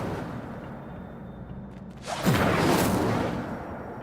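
A spell cast in Hogwarts Legacy bursts in as a sudden loud whooshing flare about halfway through, following quieter game ambience, and its fiery rush sustains before slowly fading.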